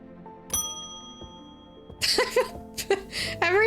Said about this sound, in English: we ring the bell for another customer